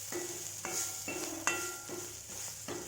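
Spices with turmeric sautéing in a hot pan for a chicken parts fry, a steady close sizzle broken by several scraping stirs and light clinks of a utensil against the pan.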